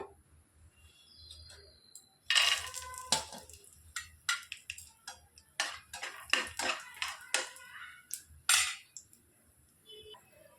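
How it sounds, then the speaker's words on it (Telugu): Raw peanuts are dry-roasted in a pan for a capsicum masala gravy, giving a run of close, sharp rattles and clinks as they tumble against the metal, with short bursts coming in irregular clusters and no talking. "ఇందులోనికి పల్లీలు వేసుకొని వేయించుకోవాలి"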